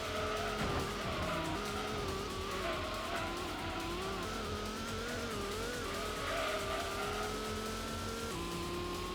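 A car scrapes and grinds along a wall in Gran Turismo, a steady loud engine drone with tyre squeal throughout, alone without talk.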